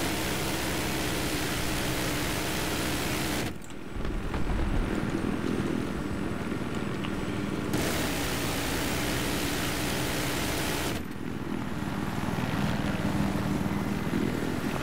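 A helicopter in a combat video game, tied to the Little Bird, drones steadily with broadband rotor and engine noise throughout, with two brief dips in the sound.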